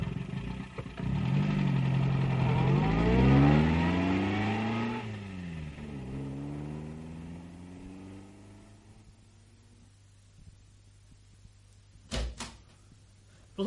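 A car engine revs and pulls away, loud at first and then fading as it drives off, followed by a couple of sharp knocks near the end.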